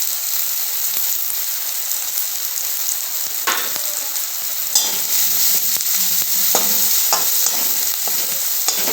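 Chili masala spice mix frying in a pan, with a continuous hiss of hot oil broken by sharp scraping and stirring strokes throughout, close and fairly loud.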